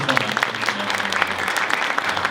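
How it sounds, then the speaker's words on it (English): Audience applause for the speakers at a salary negotiation panel, a steady patter of clapping across the whole stretch, moderately loud and even. "please give a large round of applause to our talented speakers"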